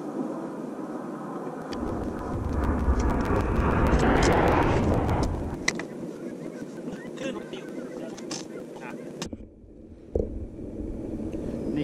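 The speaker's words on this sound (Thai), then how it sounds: "นี่ครับเครื่องบินกำลังจะขึ้นแล้วครับ" An airplane about to take off at an airport in Portland, Oregon, during heavy snow; a broad engine roar swells and fades over several seconds amid steady background noise and sharp clicks.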